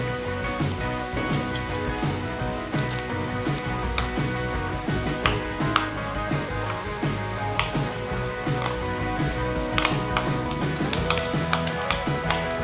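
Chopped onions, two large ones, frying in oil for a liver fry, sizzling loudly and steadily throughout with scattered clinks and scrapes of stirring and some background music, no talk.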